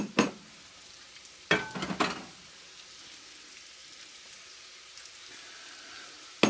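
Beef browning in oil in a frying pan for a slow cooker stew, a steady soft sizzle and fry with a few sharp clattering stirs or utensil knocks near the start.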